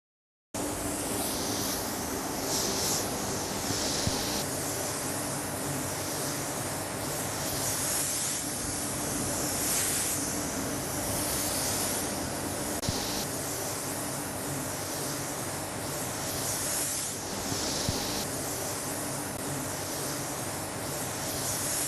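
Steady hiss of a spray gun laying paint flake over a 1932 Ford, close and continuous, pulsing slightly with each pass across the body.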